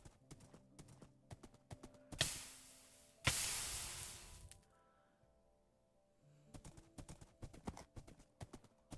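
Horse hooves clip-clop in a video game, steady rhythmic steps near and fairly loud, broken by two sharp louder crashes and a quiet pause before the trotting resumes.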